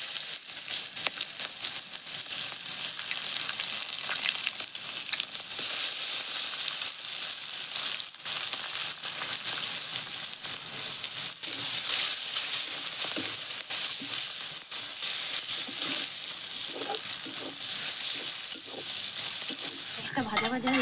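Onion sizzling and frying in hot oil with bay leaves and whole cumin for a prawn, potato and pea curry, a steady loud crackle with occasional stirring throughout, no voices.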